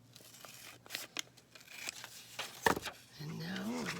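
Scissors cut paper while a Christmas journal is being decorated, with a few close snips and rustles, then a sharp louder crunch of a cut. A voice talks quietly over part of it.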